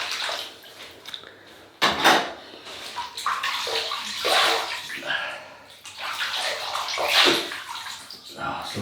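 Hot water splashed onto the face at a barbershop-style wet shave before using a 1960 Gillette Fat Boy razor: continuous close sloshing and splashing that rises and falls over several seconds, loud, with no talking.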